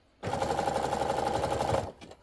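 A sewing machine stitches a seam on a fabric steering wheel cover in one quick burst, a rapid buzzing run of under two seconds that starts and stops abruptly, close by.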